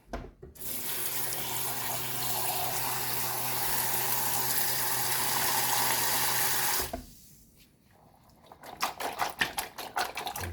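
Tap water runs steadily into a sink while something is washed during cornmeal porridge prep in a home kitchen, a loud continuous rush for about seven seconds, then it stops and brief clatter and rustling follow.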